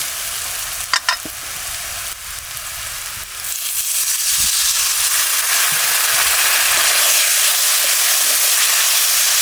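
Water splashes into a pan of frying masala for a Bengali rupchanda fish curry, setting off a loud, steady sizzle and hiss that swells and holds after a brief stirring clatter at the start, with no talking.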